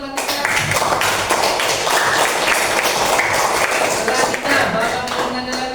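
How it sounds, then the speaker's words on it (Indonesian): Students in a classroom clap for a classmate during a Quran lesson, a brisk burst of many hands lasting several seconds, with voices mixed into the clapping. "Tepuk tangan dulu untuk Latifah."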